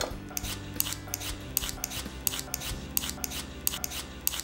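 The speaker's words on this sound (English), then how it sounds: "And voila, we have a whole group of carrots peeled here." Carrots are scraped with a vegetable peeler while being prepared for a cooked side dish, giving a quick series of crisp, close scraping strokes in an uneven rhythm with no talking.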